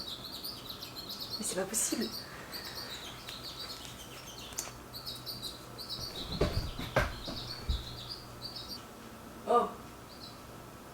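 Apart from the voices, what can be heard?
small bird chirping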